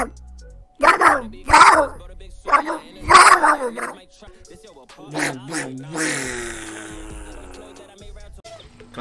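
A dog in a video game barks in several loud, sharp bursts, then gives softer whimpering yips, with a person talking in between.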